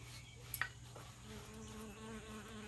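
Bees hover close around someone outdoors while a survival slingshot is being carved, a faint, steady buzzing drone with a couple of brief clicks early on.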